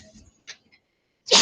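A single sharp sneeze bursts out loudly at the end, following faint soft sounds and a quiet lesson-room hush.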